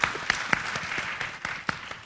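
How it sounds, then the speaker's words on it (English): Audience members clap together at a talk on women's career comebacks in Malaysia, a short burst of fairly close applause with a few sharp individual claps standing out. "we should give a round of applause to all the ladies here."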